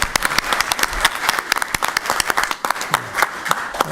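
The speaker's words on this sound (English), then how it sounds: "And another round of applause for him and his family." Round of applause from the audience at a town council meeting, a lively crowd of distinct, closely spaced claps that keeps going steadily and fairly loud throughout.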